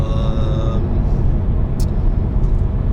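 A car drives at speed in traffic, with a loud, steady road and engine rumble heard from inside the cabin, a short tonal whine at the start and a brief hiss partway through.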